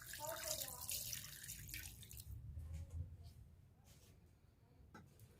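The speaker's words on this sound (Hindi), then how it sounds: "और इसके अंदर हम ठंडा पानी शामिल कर देते हैं" Cold water is poured from a container into a bowl holding fresh homemade paneer still wrapped in its cloth. The pour gives a short, close splash that soon fades to a soft trickle and a few drips.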